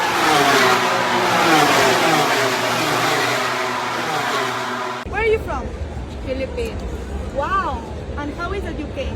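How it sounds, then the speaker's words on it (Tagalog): Loud, high-pitched MotoGP racing motorcycle engines scream past at a racetrack in a steady roar, then more distant revving passes with rising and falling pitch as a voice speaks over it. "Lalo pag naririnig mo na yung mga motorsiklo na nandito sa loob"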